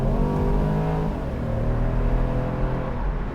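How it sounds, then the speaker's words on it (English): 2014 BMW Z4 sDrive28i M Sport with 245 horsepower, accelerating hard from inside the cabin, a steady loud engine drone with rising revs, no talk. "I'll just hit the loud pedal here and see what happens when we get the wheels straight"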